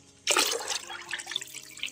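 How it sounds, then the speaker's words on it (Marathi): Plain water poured from a bucket into a kitchen-waste compost pit, a sudden loud splashing gush that settles into a steady trickle, close by with no talk. "आता ह्याच्यामध्ये मी एक साधं पाणी टाकते थोडंसं"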